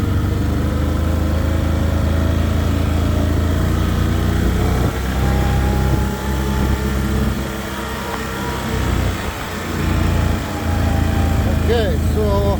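A Ford 8N tractor pulling a mower drones steadily up close with a continuous low engine rumble throughout, dipping slightly for a moment midway before holding its loud, even note.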